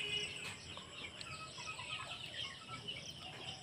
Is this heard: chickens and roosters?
yes